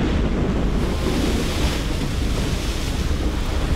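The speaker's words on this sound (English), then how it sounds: "That's a storm and a half." A violent storm in the game Life is Strange sends loud, continuous wind roaring over crashing surf, dense and unbroken throughout.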